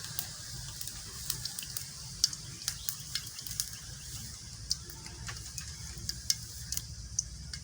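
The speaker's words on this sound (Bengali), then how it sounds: "এই যে গরম তেলে কয়েকটা জিরা ফেলে দিচ্ছি।" A few cumin seeds sizzle in hot oil with a faint, steady crackle and scattered sharp ticks and pops, close by and quiet, with no talking.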